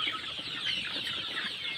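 A flock of Sonali and desi chickens clucks continuously, a dense, steady chorus of overlapping calls with no pauses or clear separate voices.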